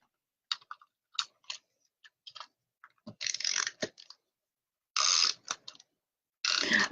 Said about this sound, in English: And I just take my tape runner.